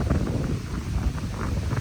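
Strong wind roars and buffets close by at a beach in a constant low rumble, with no voices.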